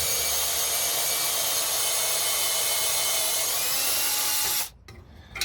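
A power tool with a 12mm socket whines loudly and steadily while removing the old exhaust from a 2005 Scion xB, then cuts off abruptly near the end, leaving quieter shop noise.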